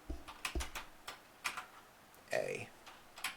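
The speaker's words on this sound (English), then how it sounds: "My keyboard is spazzing out." Computer keyboard typing erratically, scattered uneven clicks and taps in irregular bursts, with a voice talking briefly in between.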